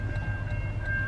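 A train passing through a city at night, a steady low rumble with a sustained tonal hum running continuously throughout at fairly close range.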